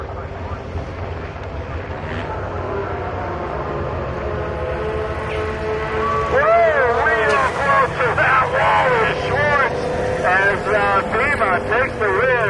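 Pro snowmobiles drag race at Milan Dragway, a loud continuous engine roar with rising revving whines as the sleds launch and pull away, under an announcer's running commentary.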